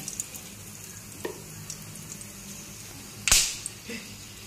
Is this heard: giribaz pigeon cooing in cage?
no